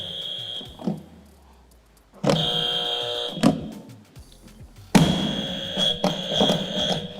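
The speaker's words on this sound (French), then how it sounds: "Je vais tester maintenant les buzzers là pour voir si ça fonctionne." Loud electronic game show buzzers blare in three bursts during testing, each a sustained harsh tone, separated by short pauses with thumps and room noise.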